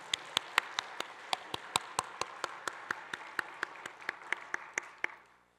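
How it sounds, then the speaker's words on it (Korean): Church congregation clapping together in a steady, rhythmic beat for the choir and praise team, sharp in-unison claps over a soft wash of applause that fades out at the end. "우리 할렐루야 찬양대 그리고 호산나 찬양팀을 위해서 박수로 한번 격려하겠습니다."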